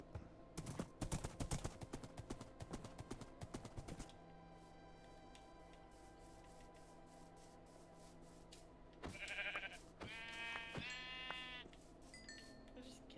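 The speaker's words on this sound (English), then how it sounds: "Poor sheep, they're dying because someone doesn't have." Sheep in the Minecraft video game bleat in a couple of short bursts late on, following a stretch of loud choppy game sounds and a steady in-game hum.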